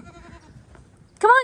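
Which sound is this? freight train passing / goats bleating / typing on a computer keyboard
goats bleating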